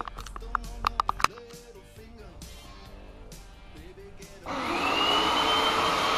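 A Bissell SpotClean carpet cleaner works on a rug. A few handling knocks and clatters come first, then the motor switches on with a loud, steady whirring roar that continues to the end.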